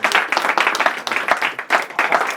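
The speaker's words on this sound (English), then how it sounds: "The last clap for Ahmed." Guests at an engagement celebration give a final round of applause for Ahmed, a loud, close, continuous burst of many people clapping with no talk over it.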